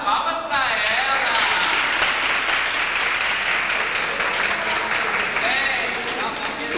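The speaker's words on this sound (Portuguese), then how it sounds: "Palmas pra ela!" Audience applause during a stage play performance, a dense continuous wash of clapping filling the whole stretch at steady loudness, with a voice briefly rising over it at the start and end.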